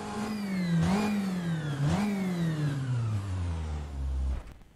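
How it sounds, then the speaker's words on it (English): An rFactor 2 race car engine drones, rising in pitch through repeated gear changes with short dips between shifts, then winds down and cuts off near the end. It is loud and close, with no talk. "hopefully you all can still manage to hear me above the car"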